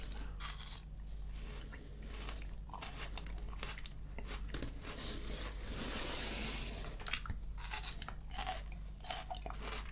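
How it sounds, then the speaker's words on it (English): Someone bites and chews onion from a Subway footlong sandwich in close-up, with crunchy bites and wet mouth sounds repeating at an irregular pace over a low steady hum, no talking. "Let's just eat the onion because it looks good."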